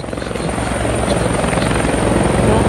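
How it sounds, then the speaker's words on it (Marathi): A helicopter's rotor thumps in a steady, loud, continuous beat, growing slightly louder as it nears, with no talk over it. "काय ते तुम्हाला येते बघ हेलिकॉप्टर"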